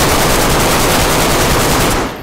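Rapid automatic gunfire from a video game hammers out loud and close in one continuous burst, then cuts off abruptly at the end.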